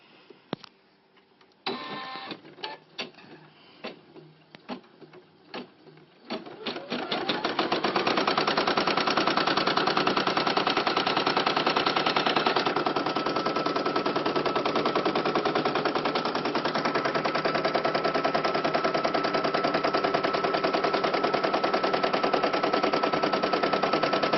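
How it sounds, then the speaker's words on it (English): A Brother PE770 embroidery machine stitching an outline in red thread starts with a few clicks and stutters, then settles into a loud, steady, fast mechanical whir and rattle that runs on continuously. "I'm watching it while it's stitching down"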